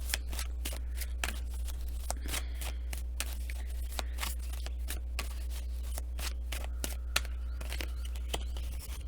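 Tarot cards are shuffled and drawn, with repeated crisp riffling snaps and slaps at an uneven rhythm over a low steady hum.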